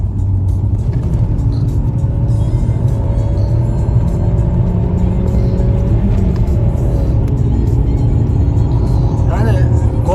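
A VW Golf Mk4 engine runs loudly up close with a deep, continuous rumble, rising slightly as it revs, with voices talking over it.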